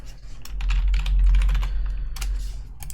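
Rapid, dense clicking of computer keys during a competitive MechWarrior Online match, with fast irregular taps close to the microphone over a steady low hum.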